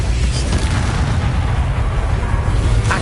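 Incendio fire spell cast in Hogwarts Legacy, a loud, dense, sustained rumbling roar of flame with a sharp burst near the end.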